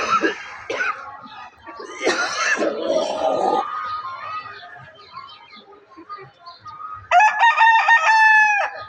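A domestic desi rooster, out on grass, crows loudly and close at the end, a long harmonic call, after several seconds of softer clucks and scattered fowl noises nearby.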